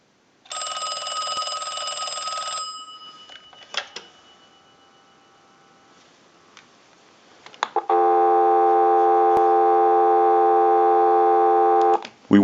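Steady tones from a telephone analyzer hooked to a Deco Tel candlestick telephone under repair: a bright ringing tone burst first, a quiet gap with small clicks, then a long continuous dial tone held for about four seconds, close and loud.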